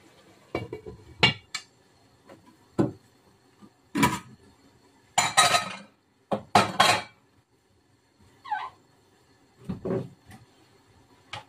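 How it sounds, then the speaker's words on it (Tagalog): A lid is set onto a pot of Ilocano igado cooking on the stove, with several sharp metallic clinks and clatters scattered among quiet gaps and one short squeak, heard close up and without talking. "So, takpan ko muna."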